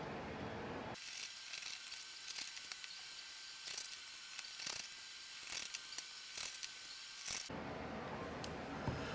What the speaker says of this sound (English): start putting in the silver screws